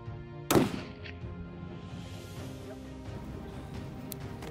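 A single sharp rifle report from an aoudad hunt in Texas cracks out early and decays quickly, leaving a quiet, steady bed of background music.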